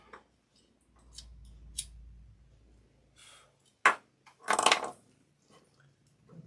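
Small scissors trimming the end of a cord for a beaded badge reel, with a few crisp, close snips spread through quiet room sound and faint handling noise.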